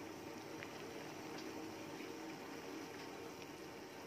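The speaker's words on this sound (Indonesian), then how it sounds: "Kan ini sudah mendidih." Water boils in a pot on the stove while bakso meatballs are being made, a steady faint bubbling and hiss with no voices.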